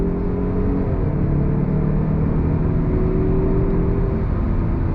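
A 2022 Mazda CX-30 all-wheel drive SUV accelerating, a steady engine drone and road rumble with a rising tone near the start, heard close and continuous without talk.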